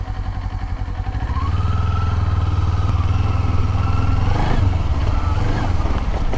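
A Kawasaki Z400 motorcycle rides off-road through bushes, its engine droning loud and close with a rising pitch as it accelerates, then wavering near the end; the rider's bike is overheating.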